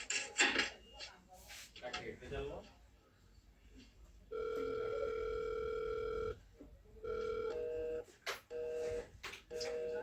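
A phone ringback tone sounds in two long steady beeps, nearby, with some clinks and brief voices around it.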